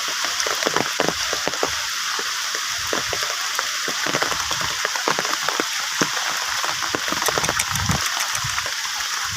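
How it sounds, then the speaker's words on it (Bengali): Steady rain falls across a village, a dense, continuous hiss with scattered sharper drops spattering nearby surfaces throughout, loud and close, with no talk. "বৃষ্টি পড়ছে, বৃষ্টি।"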